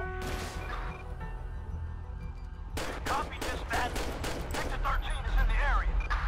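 Rapid gunfire in GTA 5 crackles in dense volleys over steady background music, with a voice talking amid the shots near the end.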